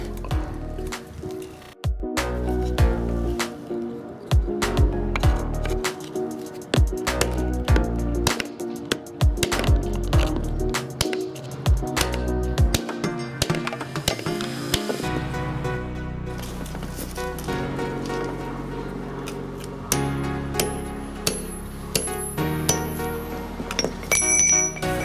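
Repeated metal-on-metal pounding as the old wooden handle core is driven out of the eye of a childhood blacksmithing hammer, sharp ringing strikes in irregular bursts, close and loud, with no talking.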